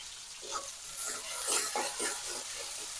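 Onion and chili frying in oil in a wok, a soft continuous sizzle with bursts of stirring and scraping, fairly faint and close, with no voices.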